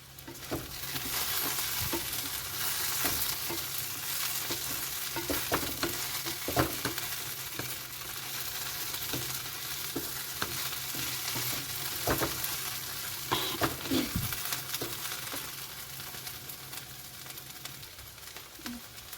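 Okra (lady's finger) frying in a pan for a Telugu-style fry, a steady sizzle with frequent scraping stir strokes, close and continuous, no talk.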